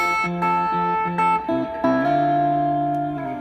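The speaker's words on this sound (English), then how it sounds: "I take my guitar volume and I turn it down to about 9 or 8" Clean electric guitar notes and chords, guitar volume knob turned down to about 8 or 9 into a distorted amp, ring out with a slight edge, sustaining and overlapping, ending on a held chord.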